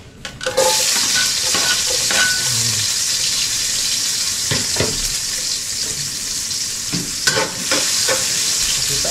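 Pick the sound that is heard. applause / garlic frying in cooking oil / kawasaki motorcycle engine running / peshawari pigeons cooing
garlic frying in cooking oil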